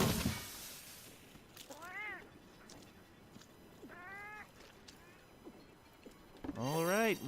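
Cartoonish cat meows from the cat-staffed restaurant in the video game Monster Hunter World: a few rising and falling calls spread across the stretch, with a louder burst of meowing at the end over a low background bed.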